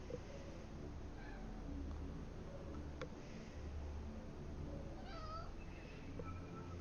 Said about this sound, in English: have a cat that says hi.